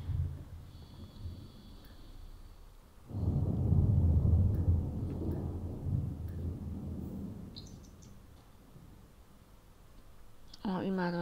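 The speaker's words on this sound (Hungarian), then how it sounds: "Jó, hogy vihar van kint." A thunderstorm with rain inside The Sims 4 game: a steady rain-like wash swells into a deep, rolling rumble of thunder that slowly fades, with faint clicks in the background.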